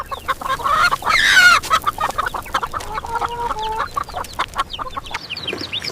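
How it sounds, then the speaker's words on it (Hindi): Several chickens cluck and squawk in a busy farmyard, with a few louder calls near the start and softer clucking continuing throughout. "आओ आज मुर्गियों को भी दाना डाल देते हैं।"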